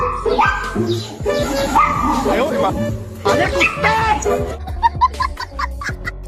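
A puppy barks and yips in quick, high-pitched bursts, some sounding whiny, mixed with overlapping voices and lively background chatter, ending in a string of sharper yelps.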